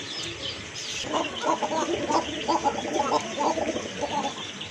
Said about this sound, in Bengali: এই যে দেখেন বাচ্চাগুলো ডাকতেছে